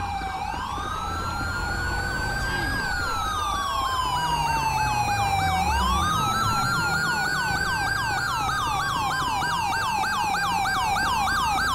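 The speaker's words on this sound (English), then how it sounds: "Turn off the siren." A loud emergency siren from a police vehicle in Grand Theft Auto V wails continuously, its pitch sweeping up and down in long cycles, with a fast warbling pattern layered over the slower wail.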